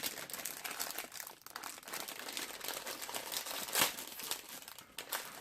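Crinkly plastic packaging being ripped open with teeth and crumpled at close range, with a sharper tearing snap near the end and no talking.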